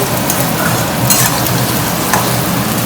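Sliced potatoes fry in a pan in a home kitchen, a loud, continuous sizzle and crackle with a few brief stirring scrapes and no talking.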